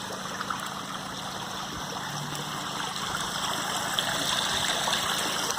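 Small stream waterfall in a spring-fed koi pond, a gentle, continuous trickle and splash of water with a faint steady pump hum underneath.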